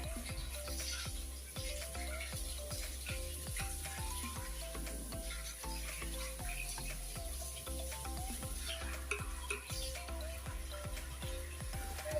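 Palm fruit fritters made with tender coconut fry in hot oil, a continuous soft sizzle with crackling bubbles and small pops, steady and close throughout without speech.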